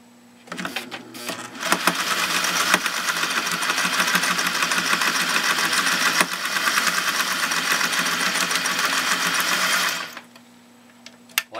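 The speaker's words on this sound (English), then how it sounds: "let's see what this 401 can do with some real thick vinyl binding" A Singer 401A sewing machine stitches through thick vinyl binding steadily for about eight seconds, a loud, dense mechanical chatter of rapid stitching that starts and stops abruptly, with no talking.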